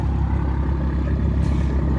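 An old, worn Cummins 12-valve diesel truck engine with a 4-inch exhaust idles after a cold start, giving a steady, loud low rumble that holds unchanged throughout, with no voices.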